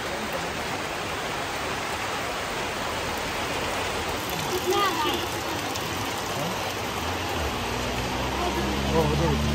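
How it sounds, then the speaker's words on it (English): Heavy rain at an outdoor spot in Arunachal Pradesh, a dense, steady hiss that fills the whole stretch with little change in loudness, a low rumble entering near the end. "it's very loud and rainy"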